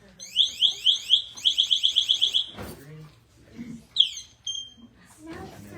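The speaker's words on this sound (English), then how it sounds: "So that beeping that you heard, that's for firemen" A firefighter's motion alarm sounds as a rapid run of shrill electronic chirps, then a pause with brief voices, then a few more chirps.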